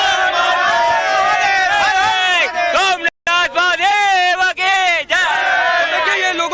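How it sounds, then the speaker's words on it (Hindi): A large crowd of Shiva devotees chants devotional slogans in unison at the Somnath temple, loud and sustained with rising and falling voices, broken by one brief pause midway. "देखिए ये लोगों की जयकारे"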